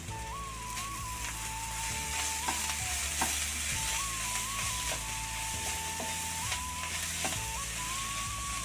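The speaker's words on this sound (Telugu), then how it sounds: "ఫైనల్గా అలాగే దీంట్లో కొత్తిమీర కూడా ఒకసారి వేసేసుకున్నాం ఇట్లా బాగా కలుపుదాం" A spoon scrapes steadily through prawn gongura curry with coriander in a pan over a constant, even sizzle, with repeated stirring strokes and a faint tonal hum in the background.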